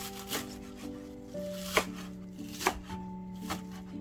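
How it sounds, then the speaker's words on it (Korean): Knife chopping minari (water parsley) into short 2-3 cm lengths on a board, a few distinct sharp cuts spaced about a second apart over soft background hum, close and moderately loud. "미나리는 2-3cm 정도로 잘게 썰어줬어요"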